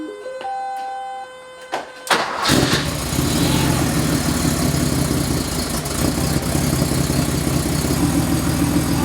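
A 1977 Porsche 911 Turbo engine cranks and catches, then settles into a steady, rumbling idle close by. A few faint tones come before the start.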